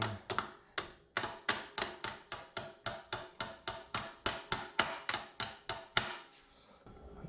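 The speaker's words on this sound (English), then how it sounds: "Tap it in with the hammer like so" A hammer tapping a motorcycle foot peg pin into place on a Ducati Panigale V4 S, about seventeen sharp, close metallic taps in a steady rhythm, then silence.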